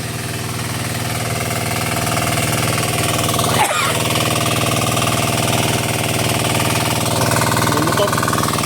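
A motorcycle engine runs steadily and close by for the whole stretch, a dense mechanical drone with one sharp knock partway through and faint voices underneath.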